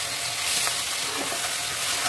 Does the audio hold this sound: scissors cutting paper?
no